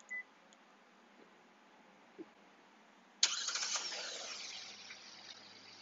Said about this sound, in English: Vehicle does come with remote start on the fob.